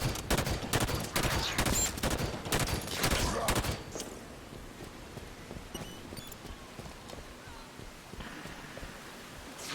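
Video game Halo 5: Guardians plays loud rapid bursts of gunfire and turret shooting for the first few seconds, then fainter scattered shots and game ambience follow.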